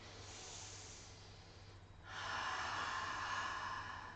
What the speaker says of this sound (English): So I'm going to take a deep breath in and out.